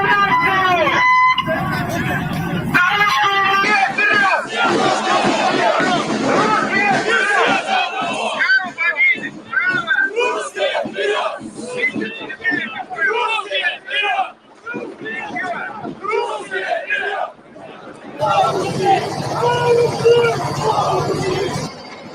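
Some 7,000 radical nationalists chant slogans at the annual Russian March demonstration. Loud bursts of many voices shouting in unison rise and break off over crowd hubbub, with brief gaps between chants.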